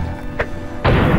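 Grenade blast in the video game UnderRail: a short thud, then a loud, sustained explosive burst filling the end of the moment, with no speech over it.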